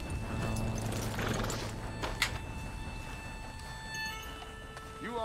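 Horse hooves clip-clopping while riding in the video game Red Dead Redemption 2, a moderate steady hoofbeat rhythm under game ambience with faint voices and a brief sharp clatter.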